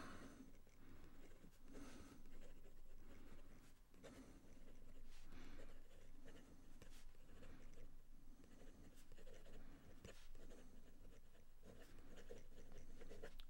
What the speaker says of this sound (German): Und dann versuchen wir mal schnelles Schreiben.